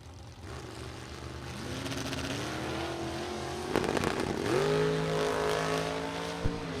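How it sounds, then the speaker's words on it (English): A supercharged rear-engine dragster from Steger, Illinois roars down a drag strip, its blown engine howling in rising gear-like sweeps with a sharp surge midway, loud and continuous against track ambience. "the supercharged blowing rear engine dragster from Steger, Illinois"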